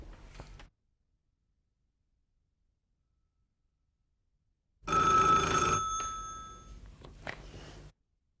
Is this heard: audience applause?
no